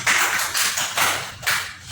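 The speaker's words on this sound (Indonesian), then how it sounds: "Berikan tepuk tangan." A classroom of students claps for a group presentation, steady loud applause that swells in three or four waves and fills the space without a break.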